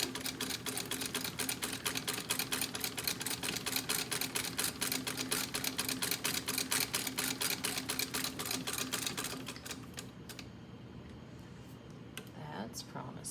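A Singer 66 sewing machine stitches thick, stiff upholstery fabric in a rapid, steady mechanical chatter for about nine seconds, then slows and stops, leaving faint clicks.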